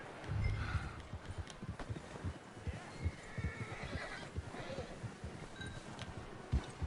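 A horse whinnies over hoofbeats and rustling in Red Dead Redemption 2, with a steady background of outdoor ambience and faint movement throughout.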